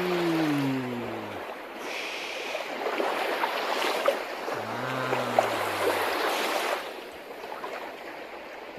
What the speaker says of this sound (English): That's the waves on the ocean, the waves on the ocean.